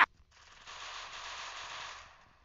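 Gunfire from a G18 pistol in the mobile battle-royale game Free Fire: a sharp shot at the start, then a sustained noisy burst of fire lasting about two seconds at moderate level, with no talking.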